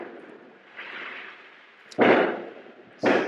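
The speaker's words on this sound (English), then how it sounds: "It's the fireworks. They're lighting early, I guess, in my neighborhood." Neighborhood fireworks go off outside in two sharp, booming bursts about a second apart, each followed by a short rumbling tail, heard at middle distance over a faint hiss.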